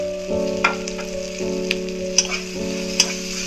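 Chopped tomato and coriander sizzle in hot oil for a fish curry, giving a steady close frying hiss with a few sharp crackles and spatters, and no voices.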